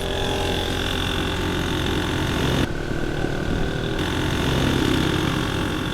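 A tricycle engine in Tuguegarao, Philippines idles and runs with a steady, moderately loud mechanical drone that holds throughout, with a brief dip in the upper hiss partway through and no voices.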